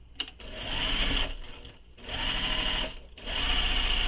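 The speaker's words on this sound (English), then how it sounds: "So we're going to sew this with the seam allowance given in the pattern." A sewing machine stitching along the top edge of a bag, running in three steady whirring bursts separated by short pauses, close and clear.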